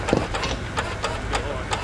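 An off-road vehicle's engine idles and revs in low, steady pulses as it is worked during a trail recovery over rock, with voices talking over it.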